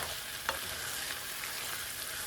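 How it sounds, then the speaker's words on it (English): Ground beef stroganoff bubbling and sizzling in a pan on lowered heat, a dense steady hiss with faint stirring scrapes, close and even throughout, no voices. "This has been simmering for a couple minutes, or for about 5 minutes, and I've stirred it really frequently"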